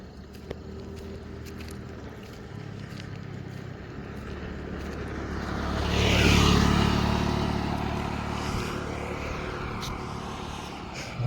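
A motor vehicle passes by on a road, its engine roar swelling from a distant rumble to a loud peak midway and then slowly fading away, heard on its own without talking.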